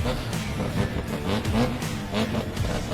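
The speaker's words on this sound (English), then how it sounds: "I'll just let you listen to Link's car as it comes off the line" A drift car launches off the line at Meremere Drift Park, its engine revving hard and loud up close, with rapid rising and falling pitch sweeps as it accelerates away.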